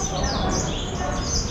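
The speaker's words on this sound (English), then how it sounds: "A lot of beautiful birds." Caged birds in a Macau teahouse chirp and tweet in quick, overlapping high calls against a busy indoor murmur, close and fairly loud.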